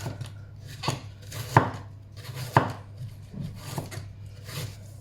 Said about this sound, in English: I'm just going to, as finely as I can, shave down this cabbage